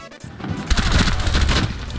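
Rapid hip-fire gunshots from a Rainbow Six Siege round on the Salvage Hill map ring out close and loud, a dense burst of shots after a quiet start.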